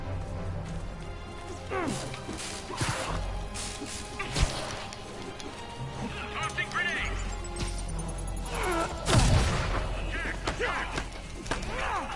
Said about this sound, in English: Web bomb